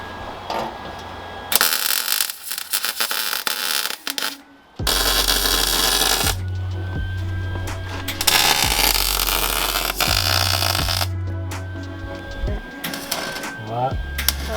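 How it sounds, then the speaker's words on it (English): MIG welding a new trunk panel into a Ford Galaxie: loud crackling, buzzing bursts of a few seconds each start and stop repeatedly, with low machine hum and short pauses between welds. "So I'm gonna keep on welding this thing, and hopefully it'll be done here in a minute."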